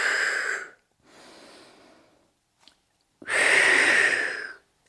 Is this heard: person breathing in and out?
yes